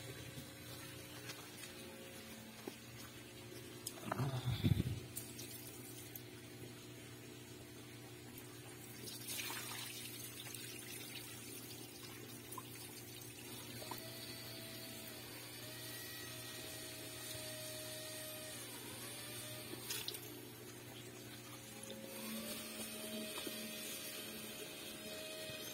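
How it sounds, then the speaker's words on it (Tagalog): Water is changed in a goldfish egg hatching tank: a faint, steady low hum with quiet trickling and splashing water, one brief louder bump near the start, all distant and subdued. "O, time na natin yung water change."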